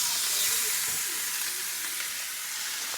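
Oxtail sears in a hot pan, a loud continuous sizzle and hiss of fat frying, steady for the whole stretch with no talk over it.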